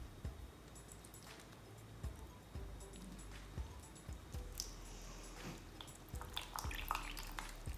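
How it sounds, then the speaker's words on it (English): Water drains through a freshly repotted tropical pitcher plant (Nepenthes) pot, giving faint, scattered drips and soft trickling with small irregular splashes, close and quiet. "we can do the water test as well to see how well it drains"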